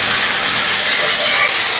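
A paste of ground gandal leaves, cumin and fennel drops into a hot turmeric-spiced curry, giving a loud, dense sizzling hiss that holds steady and close throughout.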